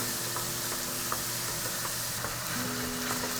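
Ground beef sautéing in a few tablespoons of oil in a pan, a steady even sizzle with occasional faint crackles and a low background hum.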